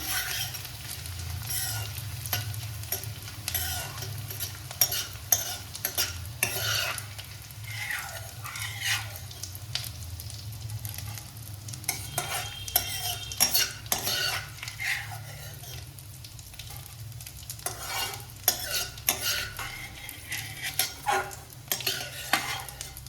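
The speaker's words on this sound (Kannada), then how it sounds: "ಸ್ವಲ್ಪನೇ ಅಂಟು ಹಾಕ್ಕೊಂಡು ಕರ್ಕೊಂಡು ತಕ್ಕೋಬೇಕು. ಲೋ ಫ್ಲೇಮ್ ಒಳಗೆ ಇಟ್ಕೋಬೇಕು." Edible gum (gondh) fries in melted ghee in a pan on a low flame for ladoos, with a soft continuous sizzle under repeated scraping and clinking of a spoon stirring against the metal pan.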